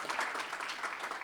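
A conference audience applauds an event organizer with brief, even, fairly faint clapping from a seated crowd, heard alone without talking.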